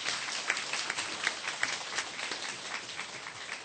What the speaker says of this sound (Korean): 우리 박수로 서로 한번 격려하겠습니다